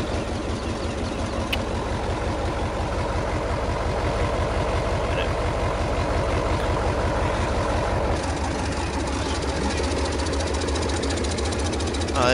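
A wood chipper's own engine runs in Farming Simulator, a loud, continuous rhythmic chugging and knocking idle that holds steady throughout and shifts slightly in tone near the end.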